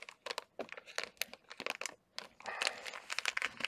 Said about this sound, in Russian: Пакетик закрываем